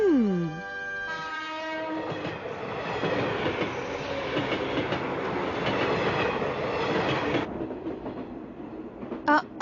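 A cartoon train nears a station: a descending horn blast opens, then a steady rattling clickety-clack of wheels on rails carries on loudly before cutting off near the end.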